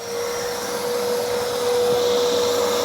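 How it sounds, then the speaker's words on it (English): A pump draws water out of a koi pond, a loud steady whining drone with a constant tone and hissing flow, running unbroken and without voices. "Back, sucking out the water there."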